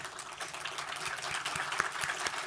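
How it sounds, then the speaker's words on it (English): Scattered applause fills a conference hall at the CoMotion Miami 2023 opening session, a dense, moderately loud patter of claps without a break and no speech. "Madam Port Director, Heidi Webb, clapping up front."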